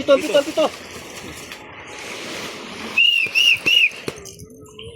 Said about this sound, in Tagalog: Uy, Lela, ang pito ko gali